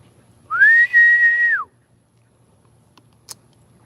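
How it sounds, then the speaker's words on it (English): A person whistles one sustained, clear note that bends up at the start and down at the end, alone in a quiet room, followed by a faint click. "you want to whistle to just let them know"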